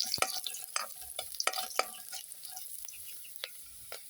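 Black pepper and ginger stirred in a cooking pot, a series of sharp scraping clicks of a spoon against metal at irregular intervals over a faint sizzle, close and fairly quiet, with no speech.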